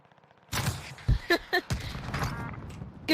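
A sniper rifle in a video game fires a quick run of sharp, punchy shots, four or five close together over about three seconds, with people talking in the background.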